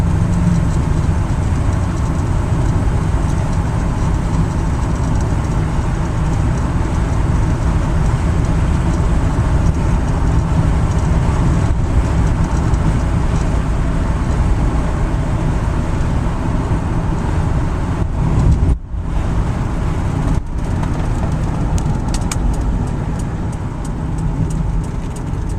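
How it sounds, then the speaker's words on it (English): Steady low rumble of a 1967 Lincoln Lehmann-Peterson raised-roof limousine engine idling with a quiet exhaust, a smooth, even drone close by for the whole stretch, briefly dipping once. "Exhaust is quiet."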